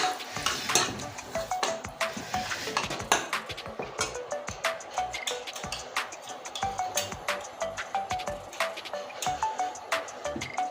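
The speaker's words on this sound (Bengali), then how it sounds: "ফড়ন দিয়ে দিচ্ছে তেজপাতা একটা শুকনো লঙ্কা দিয়ে দিচ্ছি ফড়নে" Bay leaf and a dried chili dropped into hot oil as tempering for a taro curry, giving a steady sizzle broken by frequent sharp clinks and scrapes of a utensil against the pan, close and busy throughout.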